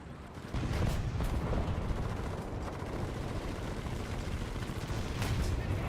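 Light artillery fires in a video game as a dense, continuous rumble of rapid blasts and booms that stays loud throughout without pause.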